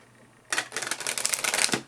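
A deck of cards being shuffled by hand, a sudden close riffle burst of rapid crisp flutters lasting over a second, then stopping, with no talking over it.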